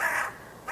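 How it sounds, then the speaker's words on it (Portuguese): A crow caws loudly and close, one harsh drawn-out call followed by the start of a second, with no voices. "escutamos uma zoada de corvo"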